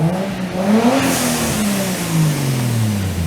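A Toyota Aristo with a turbocharged 2JZ engine, suspected of spark blowout, runs and revs up close, its pitch climbing then sliding down in a loud, continuous drone.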